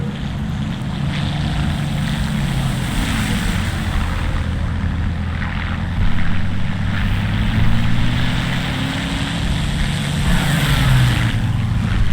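Damaged piston aircraft engine in a flight combat game, a loud, steady propeller drone with wavering pitch that runs continuously and swells slightly toward the end, with no voices.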